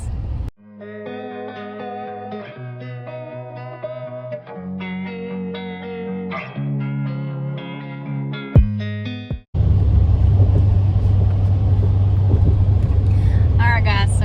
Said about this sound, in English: I'm going to give him a little bit to see how the truck's going to pull the trailer